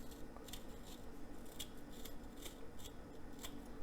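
A small kitchen knife slicing at an angle through the stem of a fresh jalapeno pepper, with a series of quiet, crisp snips repeating every half second or so at close range.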